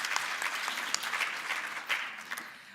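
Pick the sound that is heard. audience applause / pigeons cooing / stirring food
audience applause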